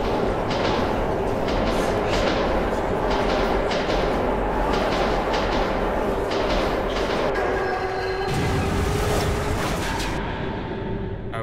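In the video game Metro 2033 Redux, a ghost train passes through a tunnel with a loud, constant rumbling roar and faint rhythmic clatter, heard close and alone without any voices.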